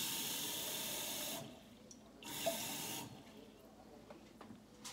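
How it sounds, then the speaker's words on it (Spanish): Tap water gushes from a faucet into a glass jar in loud bursts, stopping and restarting twice, with quieter gaps between the flows and no speech. "Voy a poner agua del grifo, más o menos 3/4 en el frasco."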